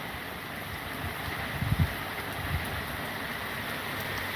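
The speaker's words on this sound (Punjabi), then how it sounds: "ਮੀਂਹ ਸਿਆਲ ਦਾ ਪਹਿਲਾ ਦਿਨ ਐ ਕੋਲ ਮੀਂਹ ਪਈ ਜਾਂਦਾ ਬਈ" Steady rain falling outside an electrical shop on the first day of winter, a constant soft hiss with a few low thumps, no voices.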